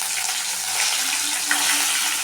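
Mustard seeds crackle and splutter in hot oil with red chillies and curry leaves, a steady close sizzle with scattered pops and no talking.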